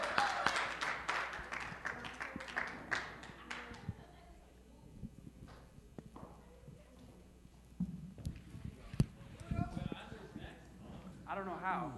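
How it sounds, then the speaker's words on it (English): A group claps in a quick burst for a participant at a gathering, the applause tapering off after a few seconds, followed by scattered taps, movement and talking in the room. "Round of applause for Raven, please."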